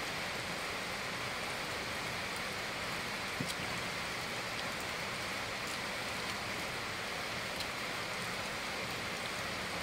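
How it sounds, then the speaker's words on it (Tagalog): Heavy rain falls steadily in a dense, even hiss that holds throughout, with scattered faint drips and no voices. "may lakas ng ulan talaga"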